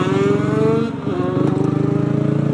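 Yamaha YZF 125 motorcycle engine running steadily up close, a loud buzzing drone that dips briefly and then picks back up in a continuous throaty hum, with no voices over it.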